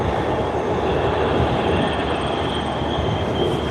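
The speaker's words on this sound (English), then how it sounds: "that would be the train to the plane." An airport-bound commuter train passes in industrial Commerce City with a loud, continuous rumble and rolling wheel noise close by, a faint wheel squeal riding on top throughout.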